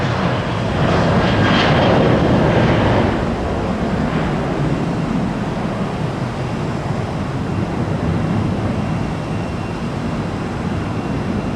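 Airplane taking off at Tampa International Airport, a loud, continuous broadband jet engine roar heard from near midfield, swelling early and then holding a steady rumbling rush.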